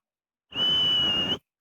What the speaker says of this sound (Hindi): ये ट्रक के अंदर से सीटी कौन ससुरा बजा रहा है